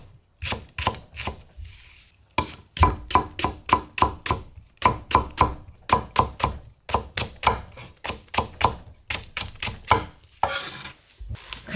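A knife chops green onions on a cutting board in rapid, steady bursts of sharp, loud thumps, with short pauses between runs and no voices.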